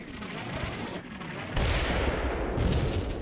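Mortar shells land in the World War II strategy game Combat Mission Final Blitzkrieg, with a rumbling blast followed by a second, louder explosion and a sustained crackling roar of debris and fire.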